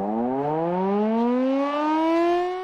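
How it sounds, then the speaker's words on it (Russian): Civil defense warning siren on a rooftop being tested, a loud single rising wail that climbs steadily in pitch and holds strong throughout, alone without voices. "В набережных Челнах сегодня проверяли систему оповещения."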